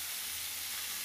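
Fish frying in a pan, a steady bright sizzle and hiss of hot oil, continuous and close with no voices.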